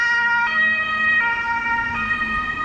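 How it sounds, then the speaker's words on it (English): An ambulance siren wails steadily with a rising and falling electronic tone over low road rumble, loud and nearby, no voices, in Starnberg, Germany. "That's the ambulance here."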